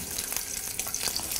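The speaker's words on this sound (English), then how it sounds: "Hear them sizzle, and try not to get burnt with the sparking oil." Linguiça sausage frying in hot oil for paella, a close, steady sizzle with a dense hiss and scattered crackles and pops throughout.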